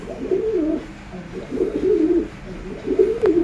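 Racing pigeons cooing close by in soft, repeated rolling coos that come in three swelling phrases, with a brief sharp click near the end.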